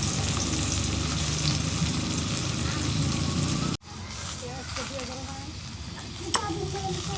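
Raw green banana slices frying in a pan, a dense close sizzle that runs loud and steady, cuts out briefly, then returns softer with occasional stirring and a sharp clack, while voices talk over it.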